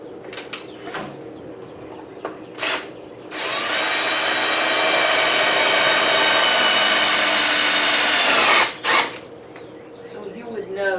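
A power drill drives screws into brick to mount rustic wooden shutters. It runs as one steady, loud whine for about five seconds, with short taps and bumps before it starts and after it stops.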